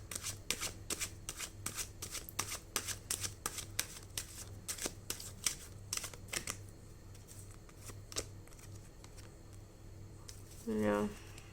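Tarot cards are shuffled in quick, crisp riffling bursts, close and fairly quiet, repeating steadily before tapering off; a short voiced sound is heard at the end.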